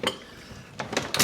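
Glasses clinking together in a toast, a few short bright clinks, one near the start and a cluster of quicker taps near the end, close and fairly faint with quiet pauses between.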